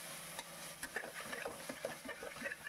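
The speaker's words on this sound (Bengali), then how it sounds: "ভালো করে মশলার সাথে টমেটোটাও আমি কষিয়ে নিচ্ছি" Chopped tomato sautéing with spices in oil for mutton curry, a soft continuous sizzle with intermittent scraping stirs of a spoon against the pan, quiet and close.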